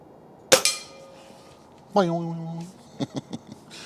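Umarex Ruger Impact Max Elite .22 air rifle fired at a tree outdoors: one sharp close crack, then a voice and a few brief knocks.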